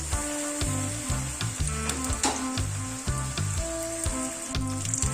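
Snacks deep frying in hot oil, a steady loud sizzle with crackling bursts and occasional scraping of a slotted spoon against the pan, close up with no talk.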